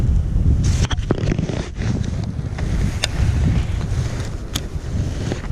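High wind buffets the microphone on a lake during cold-front winter fishing, a constant loud roar with gusts and scattered rattles and knocks from gear.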